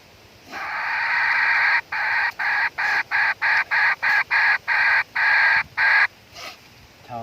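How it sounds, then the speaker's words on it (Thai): A hen clucks close by in a fast, steady run of loud, evenly spaced bursts lasting several seconds, with no one talking, in rural Thailand. "ก็เสียงไก่แม่ก้อยเนาะ"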